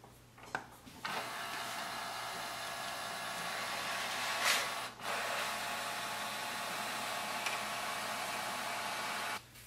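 A Canon MAXIFY GX4020 printer scans a document, giving a steady mechanical whir with a brief louder swell midway, running continuously close by with no talk.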